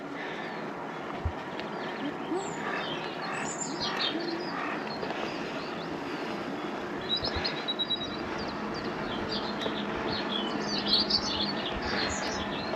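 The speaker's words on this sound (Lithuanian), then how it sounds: "paukščiai čiulba" Songbirds chirp and sing loudly on a mountainside at Säntis in the Swiss Alps, with bright repeated calls scattered over a steady outdoor background rumble.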